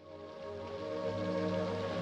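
Steady rain pours down in the Gene Kelly "Singing in the Rain" film scene, a dense continuous patter with orchestral music sustained beneath it, with no voices.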